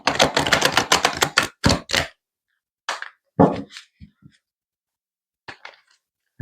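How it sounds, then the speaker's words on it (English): Tarot cards being shuffled by hand, a burst of dense, rapid riffling flicks up close, then a few sparser taps and rustles as the deck settles, with quiet gaps between. "Okay, this will be the last shuffle"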